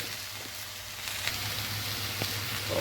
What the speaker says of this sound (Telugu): దొండకాయ ముక్కలు వేసుకోవాలి, ఇలా కలుపుకోవాలి.